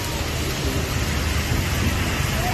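Heavy rain pours down on a flooded Karachi street, a dense, steady, loud roar of water throughout with no voices.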